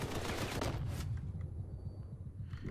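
Rapid automatic gunfire from the vehicle combat video game Crossout rattles loudly in a dense burst for about a second, then drops away to quieter background game noise.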